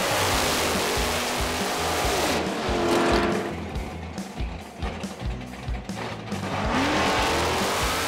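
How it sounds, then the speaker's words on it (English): A 588 cubic inch big block Chevy Nova makes a drag strip pass, its loud, close engine roaring continuously with shifting pitch and surges through the run. "We're gonna unleash 588 cubic inches of big block Chevy the proper way."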